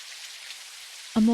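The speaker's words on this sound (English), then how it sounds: "Is it raining? Yeah, there's the rain." Rain falling in a video game, a steady soft hiss that runs through most of the moment before a voice cuts in near the end.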